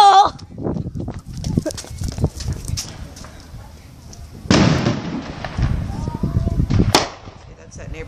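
Fireworks go off at a July 4 celebration, with two sharp, loud bursts followed by crackling, while people talk and call out nearby.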